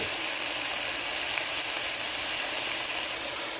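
Organic steak sizzles steadily in a hot pan for Philly cheesesteak tacos, a dense, even, crackling hiss that stays loud and unbroken throughout.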